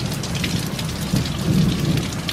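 Steady, loud rain pours down outside a house, with a deep rumble of thunder swelling underneath midway through and lingering to the end; no voices.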